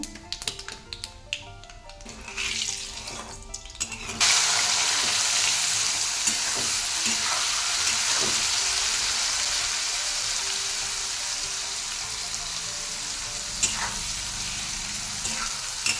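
Turmeric and black cumin hit hot oil for a tempering: a few light taps and stirs at first, then a sudden loud, steady sizzle that keeps going close up, fading slightly toward the end, with no talk over it.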